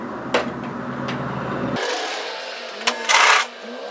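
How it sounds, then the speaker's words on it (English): Overlocker serging the edge of a raglan sleeve, a steady mechanical whirring hum that cuts off abruptly midway, followed by brief rustling and scraping of fabric. "it's just a matter of overlocking, serging that on to fit"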